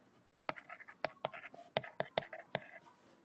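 A pen or chalk taps and scratches out a long written explanation of the Buckingham Pi theorem in a quiet room, producing faint, irregular close strokes and clicks.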